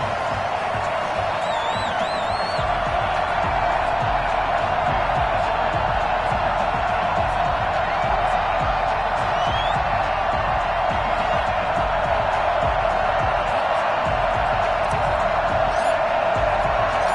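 Stadium crowd in a Madden NFL 21 game before a Houston Texans versus Denver Broncos kickoff, a constant loud roar of cheering with faint whoops, heard under a commentator's voice.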